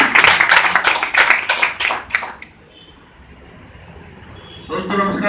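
Audience applause at an RCM business meeting: a dense, loud burst of clapping for about two and a half seconds that cuts off, leaving a quiet room before a voice begins.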